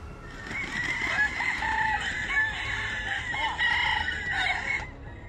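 A rooster in a crowing competition where birds vie for the longest crow, delivering one long, sustained, strained crow that holds for several seconds before cutting off, moderately near and clear against a quiet background.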